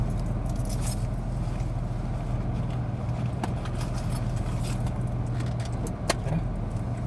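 Keys jangle in light metallic bursts over a steady engine drone inside a car, with sporadic clinks and no talking.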